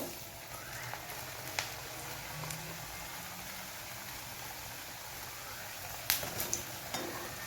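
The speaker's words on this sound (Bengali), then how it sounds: "আলুগুলোকে একটু ভালো করে ভেজে নেব" Potatoes frying in hot oil with dry chilli and black cumin, a faint, even sizzle with scattered soft pops and a brief clatter near the end.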